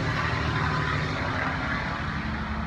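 Traffic from a nearby two-lane highway beside a front yard, a continuous broadband roar of passing vehicles, steady and fairly loud with no talk over it.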